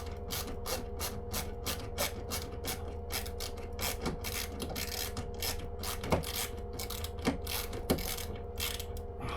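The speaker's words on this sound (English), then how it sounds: "I love this ratcheting screwdriver" A ratcheting screwdriver clicks in a quick, steady stream of ratchet pawl ticks, close and fairly quiet, with occasional sharper clacks mixed in.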